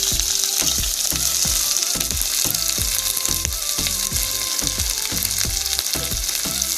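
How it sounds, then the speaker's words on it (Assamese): Two medium finely chopped onions frying in oil for a village-style Assamese pork dish, making a loud, dense, continuous crackling sizzle with a rapid, even rhythm of stirring strokes throughout, close up and with no talk. "সেই পিঁয়াজখিনি তেলত এৰি দিওঁ লাহেকৈ"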